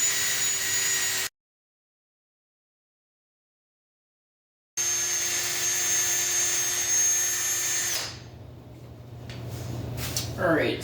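Two-part epoxy resin, parts A and B, being mixed for a bathroom vanity countertop gives off a steady close whirring hum that cuts out completely for a few seconds, returns, then drops in pitch and thins toward the end.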